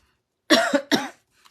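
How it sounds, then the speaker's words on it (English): A woman gives two or three quick, dry coughs close to the microphone in a quiet room, followed by a faint breath. "I still have a little bit of that dry cough"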